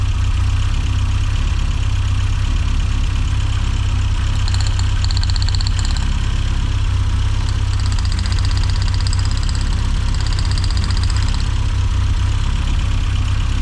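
A rare Mini John Cooper S Sport engine idles roughly with a loud, steady low rumble and a faint metallic ticking on top, heard close up without talk.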